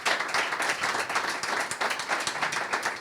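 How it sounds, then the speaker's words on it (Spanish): Applause from a seated audience at the close of a Spanish-language investing talk, a moderately quiet, dense patter of clapping hands with slight rhythmic swells, no voices. "despedimos a Juan Bautista Serrano García con un fuerte aplauso porque ha sido un lujo."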